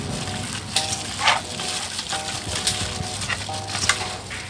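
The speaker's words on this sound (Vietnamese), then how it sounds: "Mình sẽ trộn đều lên nè, trộn đều gia vị lên" Fish sauce, sugar and seasoning are mixed by hand into mullet fish, giving soft wet squelching and stirring sounds with occasional louder squishes at a steady, close, unhurried pace.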